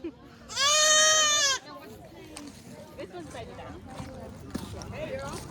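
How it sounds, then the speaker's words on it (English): Baby goats at a Chattanooga Audubon Society appreciation day, with one loud, close, drawn-out bleat followed by softer bleats and farmyard noise while people talk nearby. "The baby goats are a hit today."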